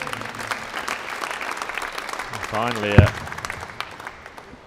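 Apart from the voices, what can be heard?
ripple of applause from a darts crowd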